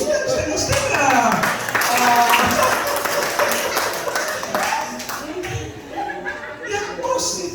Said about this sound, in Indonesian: Tepuk tangan serius, setengah-setengah.